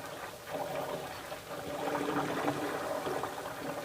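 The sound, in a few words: ghee bubbling in a pan while being cooked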